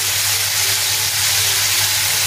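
Spiced water hits a hot pan for chilli paneer, giving a loud, continuous steamy sizzle and hiss that stays steady from start to finish, close up with no voices.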